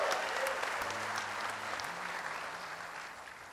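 A church congregation applauds during a sermon service, with sustained, dense clapping from a large crowd in a reverberant hall, slowly fading, and a soft held note sounding beneath it.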